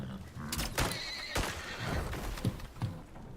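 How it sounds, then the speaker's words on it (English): A horse in the survival game Icarus whinnies loudly several times, its calls mixed with clip-clopping hooves and a few heavy thumps, with no talking over it. "There's a horse over there?"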